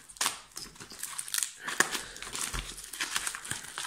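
A taped package of crystal card kits is picked at and pulled open, giving close, quiet crinkling and crackling of plastic and tape in irregular bursts with no talking.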